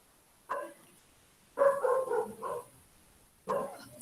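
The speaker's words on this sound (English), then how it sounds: "Let's wait for the dogs to stop barking." Dogs bark at a distance in short bursts: a single bark, then a quick run of several, then another after a pause.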